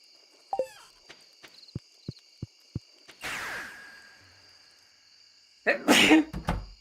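A single loud, sharp sneeze bursts out near the end, after a series of quiet taps and a brief whooshing sound.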